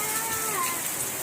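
Heavy rain pours steadily in an outdoor monsoon downpour, a dense, continuous hiss that stays evenly loud throughout, with no voices.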